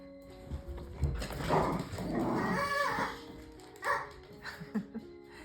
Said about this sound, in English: Did you hear my dog growling? He got scared because the kitchen timer went off.